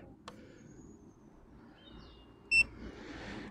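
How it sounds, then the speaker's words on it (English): A short, sharp electronic beep with bright harmonic tones rings out once from a power station over a low background hum, preceded by a faint click. "And there we get the beep"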